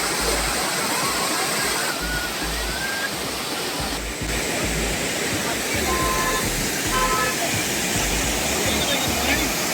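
Cheeyappara waterfall near Munnar, Kerala, roars in a steady, loud, broadband rush of falling water that fills the whole clip, with faint traffic and voices mixed into the continuous wash.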